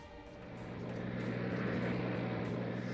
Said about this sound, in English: A car?